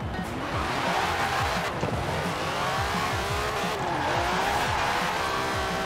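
An old Mercedes drifting in Forza Horizon 4, engine revving hard and continuous while the tires squeal and skid through the slide, loud and close with no talk.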